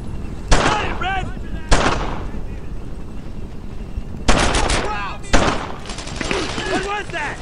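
World War II gunfire in the Brothers in Arms: Earned in Blood shooter: four loud, sharp shots or short bursts spaced across the clip, ringing out over a constant rumble of distant battle, with shouting voices in between.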